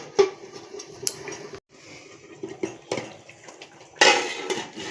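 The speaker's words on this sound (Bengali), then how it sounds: "তো এবার ঢাকনা দিয়ে ঢেকে দেবো।" A lid set onto a pan of pabda fish curry, with a few metallic knocks and clinks near the start, quieter rattles through the middle and a louder clattering contact toward the end.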